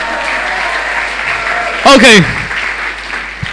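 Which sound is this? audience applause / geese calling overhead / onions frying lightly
audience applause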